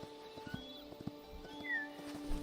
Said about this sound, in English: Is it time to get the horse out? I think it is.